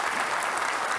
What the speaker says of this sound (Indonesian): kita beri tepuk tangan untuk Pak Basuki Cahayapurnama